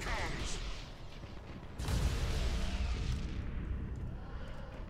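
Torpedo hits land on a ship in the space combat video game Battlefleet Gothic Armada, with rumbling blasts and a heavier boom near the two-second mark that fades into a low roar. Someone talks under the impacts.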